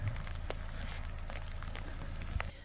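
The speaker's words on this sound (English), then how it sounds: "So you can see it's starting to rain a little bit more now here too." Light rain falling beside Camp Creek near the Klamath River, a steady soft patter with scattered drops close by, continuous for a few seconds before easing off at the end.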